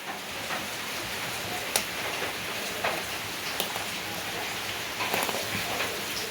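Steady rain falls outside a village home in the Konkan, a continuous wash of patter with occasional sharper drips and taps.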